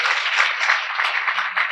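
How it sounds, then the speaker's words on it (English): An audience breaks into steady, dense applause, many hands clapping together at a fairly even level from start to finish, with no speech. "Give him applause"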